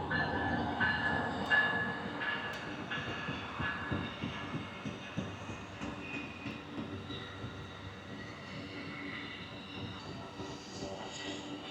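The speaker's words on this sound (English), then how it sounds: "Got an Amtrak coming through here." An Amtrak passenger train rumbles past at a distance, steady rolling and rattling of rail cars with faint clicking wheels, continuous throughout with no talking.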